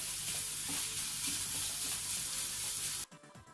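Minced meat frying in a pan with tomato, a loud dense sizzle with stirring that continues for about three seconds and then abruptly drops away.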